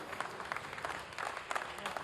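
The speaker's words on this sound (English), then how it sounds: "You hear the applause, you see the hugs and the smiles" Faint, distant applause fills a launch control centre after satellite separation on an Arianespace Vega flight, a steady patter of many hands with a few louder claps, set behind soft crowd murmur.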